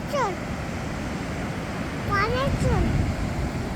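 Sea waves wash steadily onto the clean sand of Achara Vayangani beach, a continuous broad rushing roar with no break, topped by a few brief high chirps.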